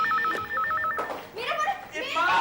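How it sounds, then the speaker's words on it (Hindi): A telephone in a 1995 comedy TV serial rings with a warbling electronic trill in rapid bursts, loud and close, then stops as people begin talking. "फोन आ रहा है पापा, आती हूँ।"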